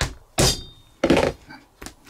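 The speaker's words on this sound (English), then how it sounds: "I'm banging it through quite hard, again into a poly block." A stitching chisel is hammered through leather into a poly block while making a phone case, with three sharp, solid thunks spaced roughly half a second apart, close and loud, the last one lighter.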